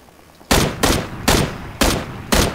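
Five sharp, loud gunshots in PUBG, evenly spaced roughly half a second apart, each a close broadband crack with a short decay, after a quiet start.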